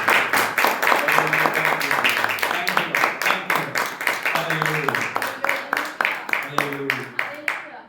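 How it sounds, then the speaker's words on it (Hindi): Church congregation clapping hands in a steady rhythmic beat, many hands together, loud and sustained throughout while voices talk or sing over it. "ताली बजा के हम"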